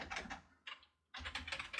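A computer keyboard is typed on in two quick bursts of crisp key clicks separated by a short pause, close and clear with no talk.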